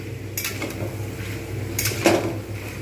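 A utensil scrapes and clinks against a pot while potato and soybean curry is stirred and sautéed, with a few separate bursts of metallic scraping over a low kitchen background.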